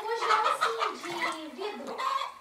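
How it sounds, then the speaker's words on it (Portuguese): A hen clucks in a rural farmyard in Brazil, a few close, loud, pitched calls in an uneven series rising and falling over a couple of seconds. "quando a galinha cantou lá, ele se assustou?"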